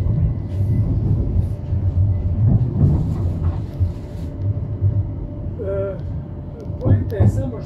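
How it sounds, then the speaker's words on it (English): A tram rumbles through Birmingham on its way to Wolverhampton St George's, its low rolling noise steady under voices and an onboard announcement, with brief squeals and tones near the end. "This tram terminates at Wolverhampton St George's."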